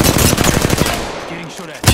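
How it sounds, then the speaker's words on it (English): Rapid automatic gunfire in Apex Legends, a fast, even string of loud, close shots that stops after about a second, leaving a fading tail and one last sharp hit. "Getting shot at."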